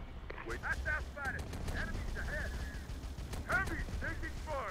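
Gunfire in the video game Terminator Defiance, moderately loud bursts of shots and rattling fire continuing under players talking.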